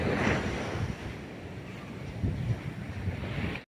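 Strong ocean surf breaks on a beach in Aurora province, Philippines, a loud broad wash of waves mixed with wind buffeting the microphone, with no talking.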